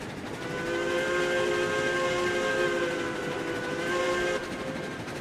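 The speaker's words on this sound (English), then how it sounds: "There's the full richness in the sound as you get into the valleys. Great addition to the game." Steam locomotive in the train game RailRoads Online, its whistle sounding a long sustained chord over a steady rolling rumble of the train, fairly loud and without talk.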